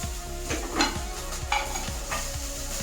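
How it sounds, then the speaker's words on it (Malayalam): Chopped onion and green chillies frying in a pan, a steady close sizzle broken by repeated scraping stirs of a spoon against the metal, roughly every half second, with no talk. "ഒന്ന് വറഞ്ഞ് വരട്ടെ."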